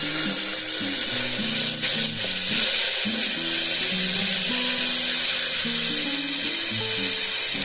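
Onions and two bay leaves fry in hot oil in a pan, making a steady, close, continuous sizzle throughout with background music playing alongside.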